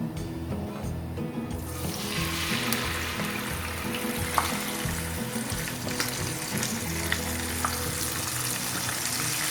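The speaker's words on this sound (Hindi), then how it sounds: "जीरा हमारा भुन गया है और अब मैं इसमें डालूंगी चावल।" Rice tipped into a pan of roasted cumin sizzles and fries loudly and steadily, with stirring and a watery hiss throughout and no talking.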